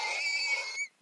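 A horse in Minecraft cries out as it is killed, a single strained, wheezing, high-pitched whinny lasting about a second and cutting off abruptly, close and fairly loud with no talk.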